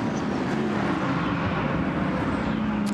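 An Audi GT race car heads down the pit road at Brands Hatch during a GT World Challenge Europe practice session, a steady, loud engine drone heard from a distance with no clear rise or fall, and no talking.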